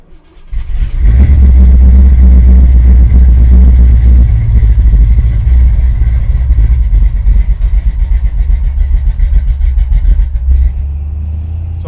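Big-block engine of a 1973 Chevrolet El Camino SS cranks and fires, then settles into a loud, deep, steady rumble close by, with slight revving before easing off at the end.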